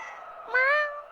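A cat's meow in the video game Touhou Subterranean Animism, one short rising cry over a soft background tone of game music.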